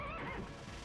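A horse whinnies briefly in a video game, a short high neigh that fades quickly, fairly faint in the mix.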